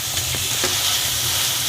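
Chopped tomatoes and green coriander stalks sizzle steadily in a hot pan while being stirred, a close, continuous frying hiss with a few soft scraping strokes.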